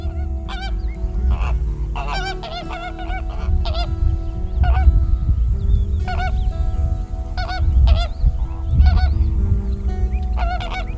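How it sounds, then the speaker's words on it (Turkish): Geese honk repeatedly at sunset in loud overlapping bursts, close by, over a steady low rumble of background noise. "Batan günün kızıllığında artık sadece kuş sesleri var."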